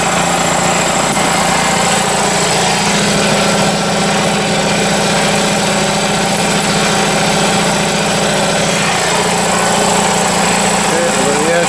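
A Foxhunter 3hp 90-litre air compressor runs continuously, a loud, close, steady mechanical drone with a rattling vibration that holds level throughout.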